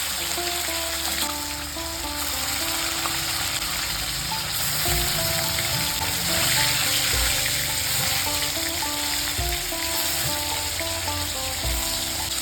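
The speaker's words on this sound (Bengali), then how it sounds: "এবার আমি মাছগুলো খুব হালকা করে ভেজে নেব।" Pieces of katla fish shallow-frying in hot oil in a pan give a steady, loud sizzle throughout, with faint tonal background music playing underneath and no talking.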